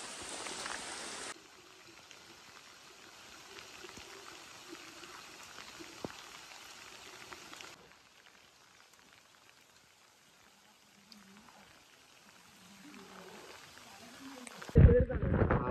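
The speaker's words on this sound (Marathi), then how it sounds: "पाऊस लय जोरात येतोय" Heavy monsoon rain pours steadily on the Madhe Ghat trail in the Sahyadri hills, a dense hiss that is loudest at the start and then eases to a softer patter, with faint voices and a brief thump near the end.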